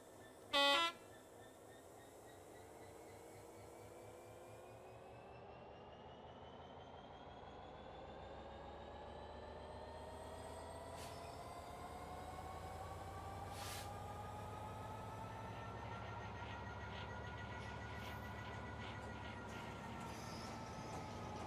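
OCA wagons being shunted into a yard in Train Simulator Classic: a steady rolling rumble of wagons with rising, sliding squeal tones, a short horn blast near the start, continuous and moderately loud with no talk.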